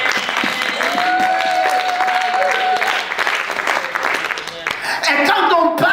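A church congregation shouts and cheers to acclaim God, a dense, loud wall of crowd voices and clapping that holds steady for several seconds, with higher cries rising above the roar.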